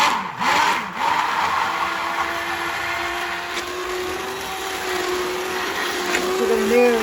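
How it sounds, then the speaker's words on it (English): A stick blender mixing soap whirs steadily with a droning motor tone, rising slightly near the end, with a couple of bumps at the start. "All right, so you take your stick blender,"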